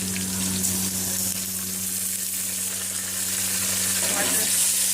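Tomatoes dropped into a frying chicken biryani base, a loud continuous sizzle and hiss with faint stirring, close up and filling the whole stretch without talk.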